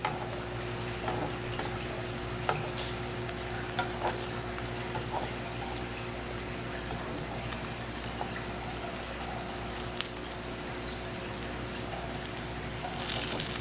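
Liquid egg cooking in a pan over low heat for an egg and cheese quesadilla. A steady, quiet sizzle is broken by occasional small pops and crackles, with no talking.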